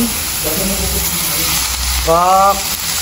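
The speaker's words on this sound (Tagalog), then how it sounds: "So, ilalagay na natin ang ating pork na ating marinade." Marinated pork sizzling in a hot pan without oil, a steady close frying hiss throughout while a voice talks briefly over it.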